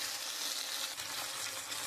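Tomato paste hits a hot pan already holding turmeric and chilli powder for a soybean curry, with a steady, close hiss of frying that stays dense and even throughout.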